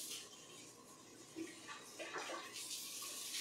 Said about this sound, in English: I'm just gonna rinse it out and we'll get a little bit of water in it